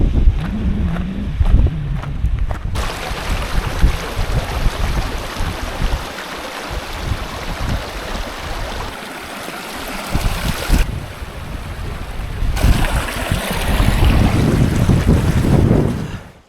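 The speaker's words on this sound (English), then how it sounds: "It's a little bit breezy down here" Strong wind gusts across a Lake District summit, roaring loudly into the microphone as a continuous rushing buffet that surges and drops in bursts before cutting off.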